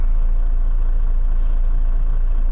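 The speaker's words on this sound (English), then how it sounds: "Let me let this truck get turned out here" A truck pulling out of a driveway onto the road, heard as a steady, loud low engine rumble that holds constant throughout with no other sounds.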